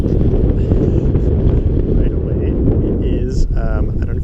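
Strong wind buffeting the microphone during stormy, rainy weather while flying a UMX Conscendo model plane, a loud continuous roar with a faint whining tone near the end.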